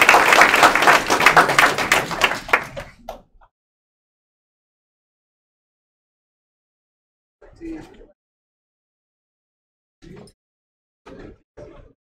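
A crowd claps for students at a career and technical college signing day ceremony, a dense burst of applause for about three seconds that cuts off sharply, followed by silence and a few scattered faint sounds.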